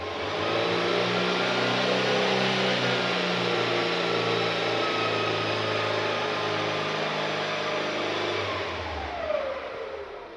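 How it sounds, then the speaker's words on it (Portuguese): A Fiat Panda 1.2 engine with a P0420 catalyst fault revs under load, a loud, sustained mid-range drone that climbs steadily before easing near the end, heard up close without talk. "Vamos dar carga ao motor."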